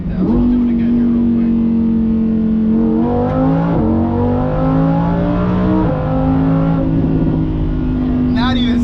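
A Lamborghini engine revs hard and close, its pitch climbing in steps as it is held at high revs around 7,000 RPM, loud and continuous throughout.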